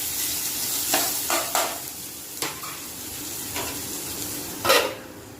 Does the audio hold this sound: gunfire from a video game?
no